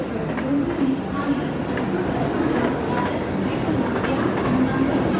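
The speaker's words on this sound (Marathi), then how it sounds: "फायनली आपली ट्रेन आली आहे." A train pulling into a station, a loud continuous rumble with faint rhythmic rail clatter throughout, steady and close.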